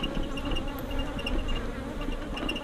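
Honey bees buzz around a hive in a continuous, moderately close drone, with individual insects whining past now and then.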